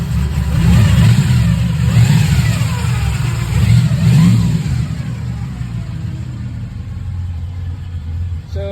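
A 1976 Pontiac Grand LeMans 350 V8 with a newly fitted timing gear drive revs up twice in loud, rumbling surges, then settles toward a steadier idle with a faint whine near the end.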